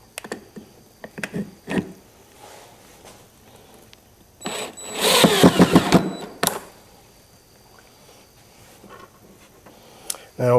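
A power drill driving screws into a country cottage style coffee table during restoration, one loud close whirring burst in the middle, with a few short clicks and knocks before and after.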